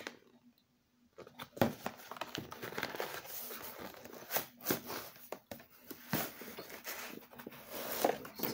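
Cardboard packaging for a pore cleaner is handled close up, with crinkling, rustling and tapping noises in irregular bursts after a brief quiet start.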